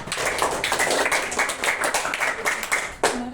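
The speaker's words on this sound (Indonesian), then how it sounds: "kita kasih tepuk tangan dulu dong buat Maya" A class claps for a classmate, brisk close-up hand claps in quick irregular bursts that fade near the end, with a brief voice at the close.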